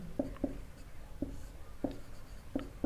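Chalk or marker strokes on a classroom board, a series of short faint taps and scrapes spaced irregularly, close by with no talking.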